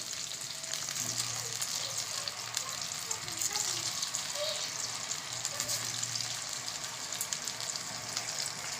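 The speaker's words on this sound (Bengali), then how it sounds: "আলুটা দেওয়ার সাথে সাথে ফুটতে শুরু করে দিয়েছে কারণ জল তো কম" Halved potatoes bubble in a shallow pan of fried-onion water for biryani, giving a steady, dense hiss and crackle that stays even and close for the whole stretch, with no one talking.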